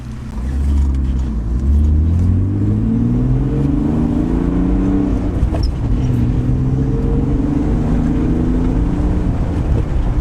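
BMW E36 M3 engine pulling hard while driving, loud and close, revs climbing and falling through several gear shifts with a steady drone between, no talk.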